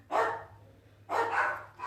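Dogs bark indoors in two loud bursts of several sharp barks each, separated by a short pause, with no talking over them.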